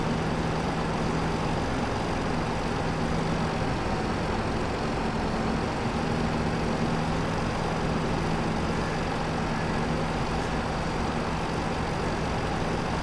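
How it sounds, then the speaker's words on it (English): Tractor towing a weeder in Farming Simulator 22, a steady low engine drone that holds evenly throughout, with no talk over it. "It's a good weeding tractor."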